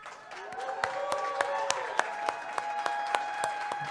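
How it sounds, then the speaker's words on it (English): Audience at a food conference giving a warm round of applause, steady clapping with sharp individual claps standing out, moderately distant, with faint voices mixed in. "A nice, warm, and maybe loud and ruckus round of applause for RNA and Little"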